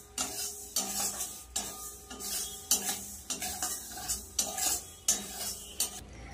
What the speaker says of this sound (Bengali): একটু হালকা করে মুগ ডালটা ভেজে নেব।